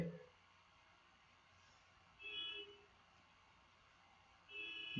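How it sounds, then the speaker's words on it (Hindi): A vehicle horn honking outside, two short distant toots a couple of seconds apart, faint over a quiet room hum. "रोज हॉर्न बजाता है"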